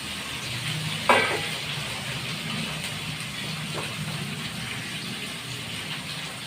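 Bitter gourd and potatoes hit a pan of fried onions, giving a steady, even sizzle close by with one brief clatter near the start; no one speaks.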